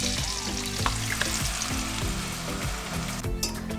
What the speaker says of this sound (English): right now I'm about to add the secret sauce of whipping cream